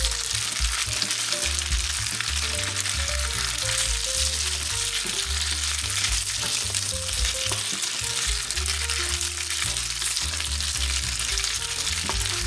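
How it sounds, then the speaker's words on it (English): Butter garlic bowtie pasta with Parmesan cheese being stirred in a pan gives a steady, fairly loud sizzle and frying hiss with soft stirring scrapes, continuous throughout with no talking. "Now you can go ahead and add in a little bit of the Parmesan cheese. You want to mix that until it melts."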